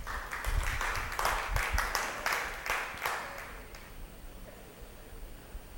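A church congregation claps together, a dense burst of applause that comes in rhythmic waves, then fades away over several seconds.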